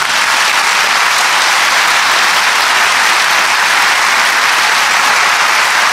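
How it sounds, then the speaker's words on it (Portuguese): A church congregation breaks into steady, dense applause for Jesus during a televised Portuguese-language evangelical service. The clapping is loud and sustained, with no voices over it. "deixa eu pedir para vocês uma linda salva de palmas para Jesus"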